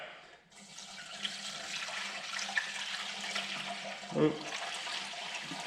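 Water pours steadily into a combine's cooling system being refilled after a water pump replacement, a continuous rushing splash with a brief louder surge near the end and a short spoken exclamation.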